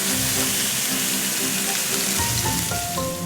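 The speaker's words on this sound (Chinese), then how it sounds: "鲜嫩的菲力肉排放进平底锅里，两面快煎，让表面焦香，锁住肉汁" Reindeer fillet steak searing in a hot frying pan, a continuous close sizzle and crackle with faint tonal notes entering toward the end.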